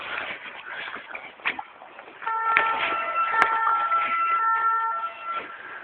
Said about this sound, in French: on entend les sirènes